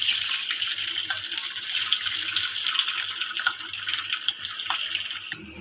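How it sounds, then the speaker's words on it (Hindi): French fries deep-frying in hot oil in a wok, a steady, loud, bubbling hiss that runs unbroken and close throughout, with no voices. "इसमें हम फ्राइज़ डाल लेते हैं।"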